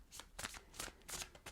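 A tarot card deck being shuffled close up, giving four or five quick crisp riffling bursts of cards with brief pauses between them.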